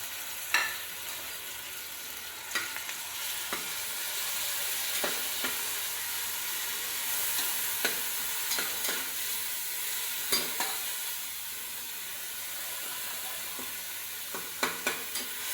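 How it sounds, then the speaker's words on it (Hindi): Chopped onion and ginger fry in oil with a steady, fairly quiet sizzle and occasional spatula clicks and scrapes spread across the stretch, with no one talking. "ये मैं ऑयल डाल रही हूँ देश के अंदर, और ये है अदरक प्याज चॉप किया हुआ"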